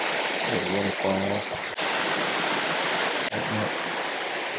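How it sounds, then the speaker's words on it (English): A small waterfall rushes steadily in the foreground, a continuous broadband wash of falling water with a few brief voiced sounds over it on a rainy West Virginia trail. "Little waterfall."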